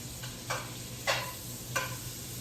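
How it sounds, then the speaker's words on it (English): Onions sizzle steadily in a very hot frying pan while a utensil breaks them up, three distinct scraping strokes rising over the constant close frying hiss. "So I'm just breaking them up a little bit so they'll all start to cook."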